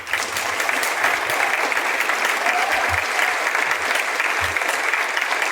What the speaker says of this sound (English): I'd like you all to join me in giving a round of applause for those who are taking a risk